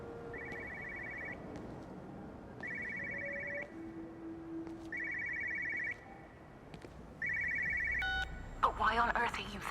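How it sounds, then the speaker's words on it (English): In the video game Everybody's Gone to the Rapture, an old telephone rings in four evenly spaced double bursts, fairly close, with faint background ambience and a brief other electronic sound at the end. "There's a telephone ringing."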